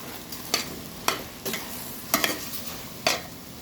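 A spoon stirs a dish in a pan over a low background sizzle, making about six distinct scraping strokes spaced unevenly across a few seconds, close and moderately loud, with no speech.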